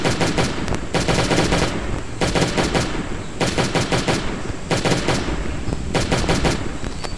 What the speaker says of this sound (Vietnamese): Bắn khẩu súng này toàn toàn hụt thôi các bạn ạ.